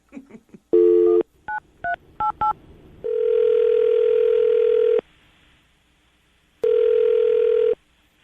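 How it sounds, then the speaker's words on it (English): A phone number is dialed: a short burst of touch-tone beeps in quick succession, followed by two long steady tones separated by a pause. "I'm going to dial the phone number right now"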